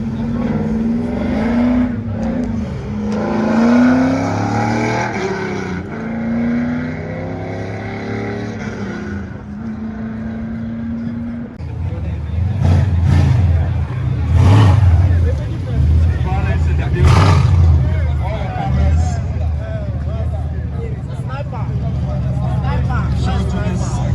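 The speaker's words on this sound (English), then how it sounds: "Mercedes V8 high turbo." A Mercedes V8 turbo car engine at a rainy outdoor auto fest rumbles and revs repeatedly in loud, throaty surges, close by, while people talk over and between the revs.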